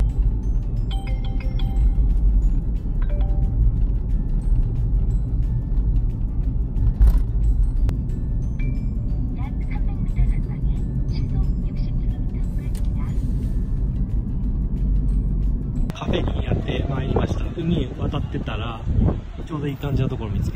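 A rented BMW car being driven along a coastal road on Jeju Island, a steady loud engine and road rumble with wind noise throughout, shifting to a brighter rushing noise near the end, with a voice talking over it.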